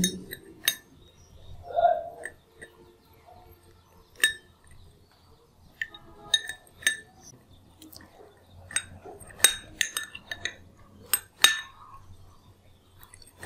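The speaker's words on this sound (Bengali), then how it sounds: "অ্যাড করার পরে মিশ্রণটিকে খুব ভালোভাবে নাড়িয়ে নিতে হবে" A spoon stirs a homemade skin-whitening face pack mixture in a small bowl, giving sparse, irregular light clinks and scrapes with quiet gaps between them, close by and without talk.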